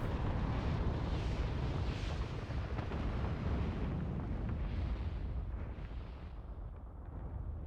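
A loud, sustained explosion in the video game Final Fantasy XIV, a dense roaring blast that rumbles on for several seconds and slowly fades toward the end, with no talk over it.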